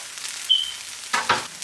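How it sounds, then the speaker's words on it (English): Garlic frying in a pan for a vegan sofrito gives a steady low sizzle, with two louder bursts of crackle near the end as the pan is stirred. "I'm gonna cook this for about a minute with the garlic in there."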